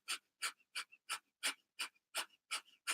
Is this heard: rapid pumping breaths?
yes